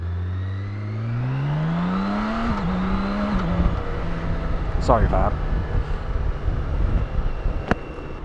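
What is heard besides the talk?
BMW K1600 motorcycle engine, throttle dumped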